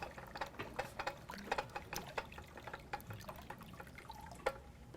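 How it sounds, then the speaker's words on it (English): Water poured into a pan of simmering herbal oil and wax for homemade lip balm, giving near, irregular drips, splashes and small ticking bubbles at moderate level with no voices. "Gonna add a little water since it's all boiling away."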